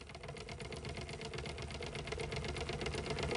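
A small boat motor runs at a steady, even rhythmic putter, fairly quiet and consistent throughout, with no talking.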